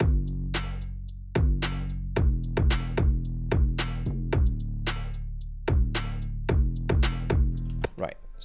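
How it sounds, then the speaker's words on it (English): Drum track with layered extra snare samples in a High School Musical 3 style production: kick and snare hits land in a steady, punchy pattern with bright cymbal ticks between them, heard alone and close. "So just the drums, it's gonna sound like this."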